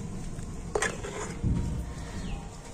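Semolina and grated boiled potato are stirred together in a pan over low heat, giving soft scraping and a couple of spoon knocks against the metal under a faint sizzle, close and quiet, with no talking.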